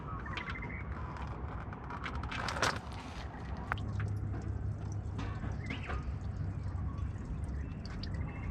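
Engine oil drains from a warm car's sump, a continuous liquid trickle and drip under outdoor ambience with faint birdsong and occasional clinks.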